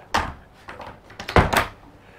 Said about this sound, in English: let's close this door over.